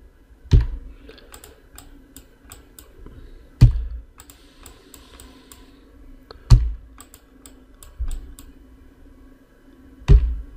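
Typing on a computer keyboard while entering a word into a text widget: sparse, close key clicks with a few heavier thuds spaced a few seconds apart over quiet room tone.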